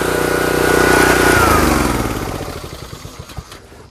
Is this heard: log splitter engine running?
yes